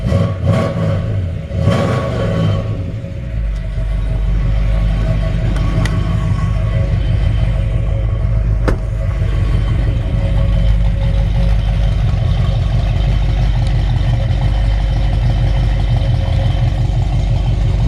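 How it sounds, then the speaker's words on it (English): A 1964 Ford Galaxie 500 with a brand new exhaust system: a low, rumbling engine runs steadily after a few sharp knocks at the start, its deep exhaust note holding evenly near the microphone. "It's got a brand new exhaust system."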